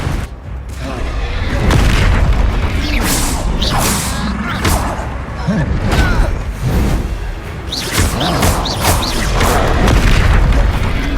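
Repeated Confringo fire-spell blasts in Hogwarts Legacy combat, heavy booming impacts with whooshing bursts recurring every second or two, loud and dense against a rumbling battle bed, with a voice briefly heard among the clamor.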